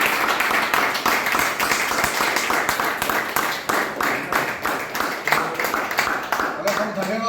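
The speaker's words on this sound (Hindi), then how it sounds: "एक बार जोरदार तालियां।" An audience at a product launch event for a mineral-drop supplement claps loudly and continuously, with talking running on top of the applause throughout.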